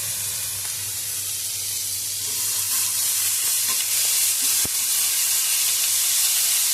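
Carrots, beans and onion sprinkled with salt fry in a pan with a loud, even hiss of sizzling that holds steady throughout, with one brief sharp tap midway.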